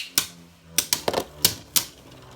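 Beyblade Burst Turbo spinning tops clash in a plastic stadium, a series of six sharp close-up clacks at irregular intervals over a faint background, with no voices.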